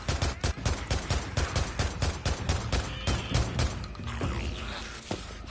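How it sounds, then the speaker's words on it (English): Rapid, loud bursts of gunfire from the video game Days Gone, with shots packed close together for about four seconds before thinning into scattered reports and fading tails. "Right now, don't need to be going mad on the gunfire at all."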